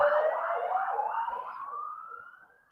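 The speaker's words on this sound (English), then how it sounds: "There goes that, an ambulance." Ambulance siren wailing as it passes near a home close to an ambulance station, a rising and falling tone that steadily fades into the distance with no talk.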